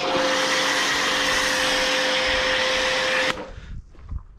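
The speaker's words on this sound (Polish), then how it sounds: "Tutaj jest, słuchać, to spienianie takie na maksymalne." Car wash foam cannon spraying thick foam at maximum foaming, a loud steady hissing rush with a constant tonal whine that cuts off sharply, leaving faint handling noises.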